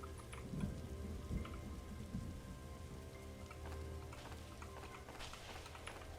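Rain and thunder in the video game 99 Nights in the Forest, a quiet steady downpour with low rumbling and scattered drop-like ticks, faint and continuous without talking.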